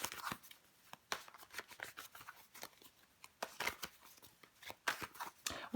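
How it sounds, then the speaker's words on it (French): Tarot cards are handled and laid out on a table, giving soft, faint papery shuffles, slides and light taps in irregular bursts with quiet gaps between them. "Je vais recouvrir des cartes."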